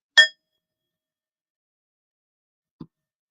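A small bell rung during a candle-lighting ritual: one clear, bright metallic ding that fades quickly, followed by silence and a faint soft knock near the end.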